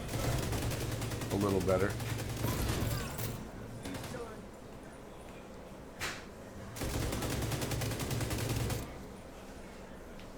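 Rapid automatic gunfire in the shooter game The Division 2, with long sustained bursts, a short pause, a single sharp crack, then another long burst, all close and loud, with someone talking over part of it.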